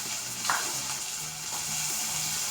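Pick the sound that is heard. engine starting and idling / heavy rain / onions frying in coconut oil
onions frying in coconut oil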